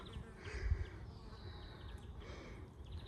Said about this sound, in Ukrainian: А бджоли літають, гудуть.